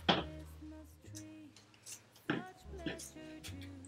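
Scissors snip through material during a farmhouse-style Christmas craft made from Dollar Tree supplies, giving a few separate close cuts with brief pauses between them and quiet handling noise in the gaps.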